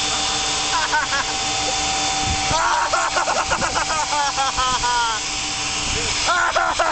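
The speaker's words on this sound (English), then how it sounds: "Vacuum my hair, vacuum my hair." A vacuum cleaner drones steadily and loudly throughout while being run over a person's hair, with people talking and laughing over the motor's constant whine.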